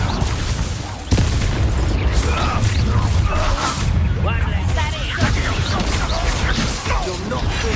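Booming explosions from the Bombarda blasting spell in Hogwarts Legacy erupt amid chaotic combat noise, with sharp bursts around one and five seconds over a loud, constant rumble as people shout in between.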